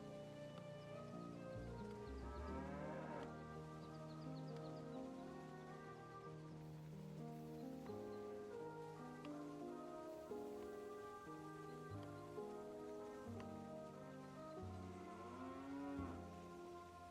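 Repeated long, lowing moos from cattle in the railway management game Railway Empire 2, recurring over a steady rain-like patter and game ambience, with no talking.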